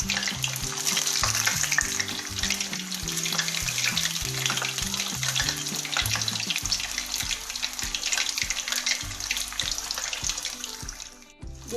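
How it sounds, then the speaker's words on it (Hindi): Rohu fish pieces fry over medium heat in a steady hiss, with background tones and a watery, tap-like wash running through the sound, fairly loud and continuous, easing off near the end. "5 मिनट ही हम इसकी दूसरी साइड को भी फ्राई कर लेंगे"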